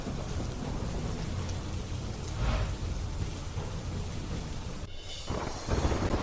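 Heavy monsoon rain pours in Dang district, a dense steady roar of downpour with a low rumble of thunder, alone and without voices.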